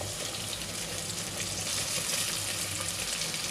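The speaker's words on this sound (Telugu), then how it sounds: "టమాటాలు కూడా వేసి బాగా వేపుకోవాలన్నమాట" Tomatoes frying in oil with onions and green chillies for a Rayalaseema mutton dish, giving a steady, dense sizzle that runs unbroken and close throughout.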